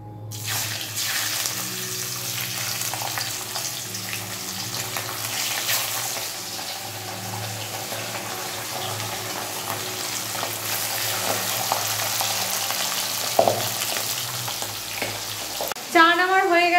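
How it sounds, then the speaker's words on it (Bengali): Pabda fish fry in hot oil in a home kitchen with a steady, close sizzle and spatter lasting throughout, mixed with running water and light kitchen clatter, ending in a brief sharper clatter. "এই যে পাবদা মাছ ভাজা করছি, ধুম ধাক্কা আওয়াজ হচ্ছে আর তেল এদিক ওদিক ছিটকাচ্ছে।"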